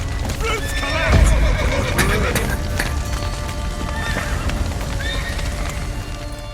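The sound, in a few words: horses neighing in video game The Witcher 3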